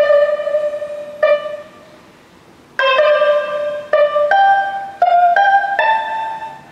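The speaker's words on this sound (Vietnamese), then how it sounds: "Đây là tiếng pipa, tiếng tì bà." Pipa voice on a Main M2000 electronic wind instrument, a sequence of plucked notes with sharp attacks and decaying tails, some with rapid repeated plucking, loud and close with no talk.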